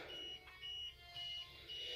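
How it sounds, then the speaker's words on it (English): A UPS with a low battery during a power outage beeps a high-pitched electronic warning at a steady rhythm, four evenly spaced tones, faint against a low background hum. "So that's what it sounds like when your UPS battery is running low."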